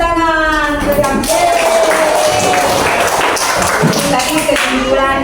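Classroom applause during an Islamic studies lesson, a dense patter of clapping under a teacher's voice and other talk, continuing throughout at close range.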